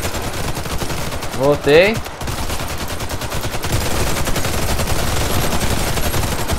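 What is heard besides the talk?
gunfire in video game Warface zombie mode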